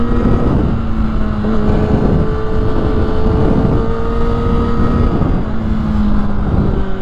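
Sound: Kawasaki ZX6R 2020 motorcycle riding on race track

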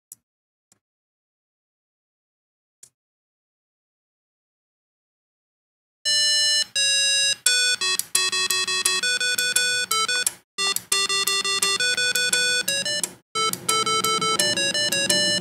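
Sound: Arduino speaker melody with relay clicking

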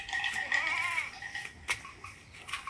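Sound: goats bleating in a goat pen

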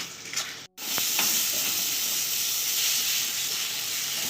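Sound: spices sizzling in pan after adding water

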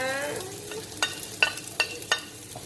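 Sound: stir-frying dried chilies for pad krapow

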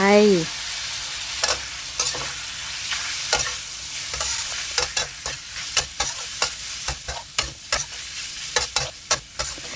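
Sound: meatballs added to a pan, frying and stirring

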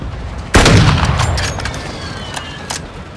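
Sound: close air support strike firing, from a video game

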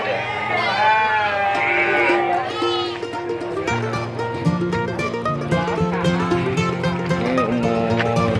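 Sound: bleating Merino sheep at goat market

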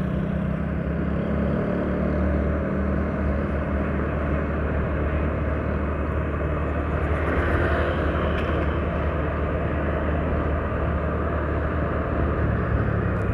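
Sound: airplane flying over near the airport

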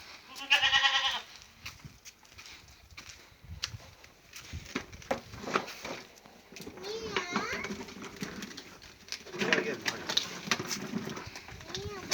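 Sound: Aleppo (Halep) goat

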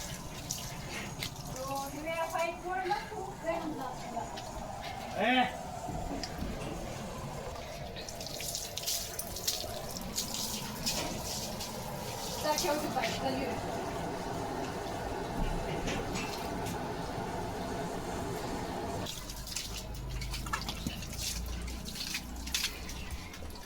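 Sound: water leaking from a broken pipe

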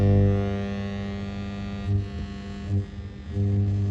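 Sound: tube radio noise between stations

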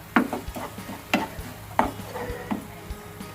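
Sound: stir-frying onions with sauce

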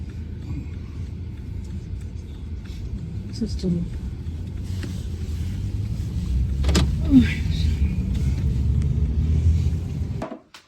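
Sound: car driving on the road

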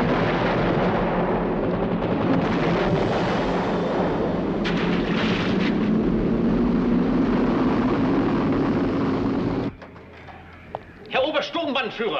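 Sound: artillery and gunfire from British motor torpedo boats

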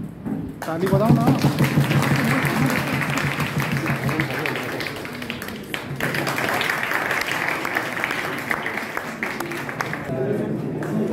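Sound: applause, audience clapping

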